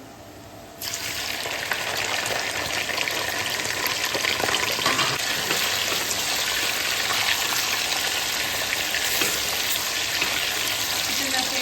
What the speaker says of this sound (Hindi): लहसुन को हल्का सा फ्राई किया तो अब इसमें डालेंगे चिकन।